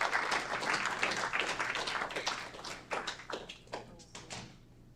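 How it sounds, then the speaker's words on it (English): Audience applause at a city council meeting as an award is presented, a dense spread of many hands clapping that stays steady, then thins out and tapers off near the end. "So give him a round of applause as we present him with this year's award."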